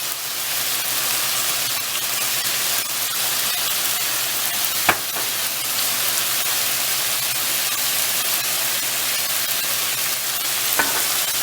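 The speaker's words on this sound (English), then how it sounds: "Now you mix it a little. Get the flavors all mixed in." Noodles with oyster sauce stir-frying in a pan for Peruvian tallarin saltado give a loud, steady sizzle throughout, broken by two sharp metallic clinks of the utensil.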